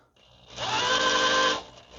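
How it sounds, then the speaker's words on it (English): A cordless drill spins up and whines steadily for about a second before winding down, driving the oil pump to prime it on a Ford 302 Mustang engine during a rebuild; close and fairly loud, alone. "My drill's not happy."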